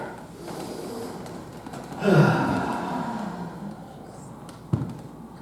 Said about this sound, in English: So, let's take a breath together.